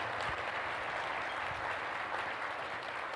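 Audience applause at a Bexar County State of the County address, a steady broadband wash of clapping filling the hall at moderate level for a few seconds with no voices over it.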